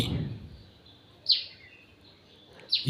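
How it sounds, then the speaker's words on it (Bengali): Two short, high chirps from a small bird resembling a tailorbird ring out about a second and a half apart, each brief and fairly clear over quiet background hiss, with a low soft thump at the very start. "এই পাখিটা ডাকতেছে এখানে"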